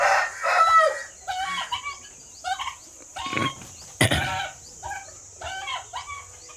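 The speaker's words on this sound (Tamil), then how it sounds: "வான்கோழி போய் கின்னி கோழி மேலே விரட்டுது புதுசாக வந்ததுனால." Guinea fowl and a turkey fighting on a farm, a burst of loud squawking and clucking calls in repeated bursts close by, with a sharp louder outburst partway through.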